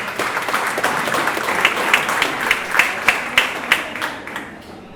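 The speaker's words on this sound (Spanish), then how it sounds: "Un aplauso a la compañera." An audience at a community political forum applauds a speaker from a local commune, a dense burst of clapping that settles into a looser, rhythmic patter of individual claps before fading.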